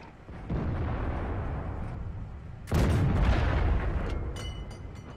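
Tank cannon fire from a light ELC AMX tank in World of Tanks: an engine rumble then a heavy low boom that bursts in midway and rings out, with a sharp crackle near the end.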